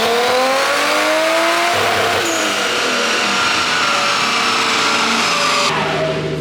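A Nissan S13 with a 1JZ-GTE engine on a 450-horsepower tune, pulling hard on a dyno in fifth gear, a loud sustained rising engine roar that climbs steadily in pitch before cutting off near the end.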